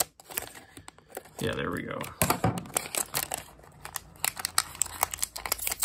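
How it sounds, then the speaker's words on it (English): Scissors snip and crinkle into a plastic Dragon Ball Z figure bag, with sharp close cuts and rustling crinkles, then tearing plastic, as someone talks briefly. "I'm gonna use scissors, but I'm not really sure where to cut here."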